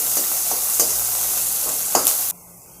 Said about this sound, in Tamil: ஒரு வெங்காயம் போட்டு கொஞ்சம் வதங்கட்டுங்க.